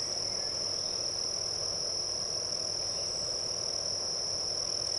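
A steady, high-pitched cricket chirring fills the air continuously over a soft background hiss, with no voices.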